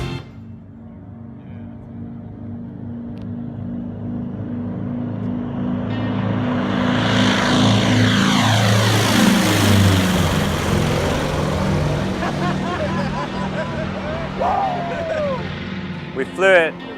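A one-of-a-kind airplane fitted with a jet engine at the Oshkosh air show, its engine whine and roar rising and sweeping past in a loud Doppler pass over about ten seconds, then fading, with voices talking underneath.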